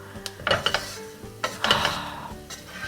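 Potato chickpea chaat stirred in a hot pan, a few close clinks and scrapes of a utensil against the pan over a faint sizzle, in two short bursts.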